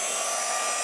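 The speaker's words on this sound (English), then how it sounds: "So now that's ready for me to just heat up using my heat embossing tool." A heat embossing tool for crafting blows a steady, loud, unbroken whoosh of hot air, a brief continuous hiss like a small hair dryer.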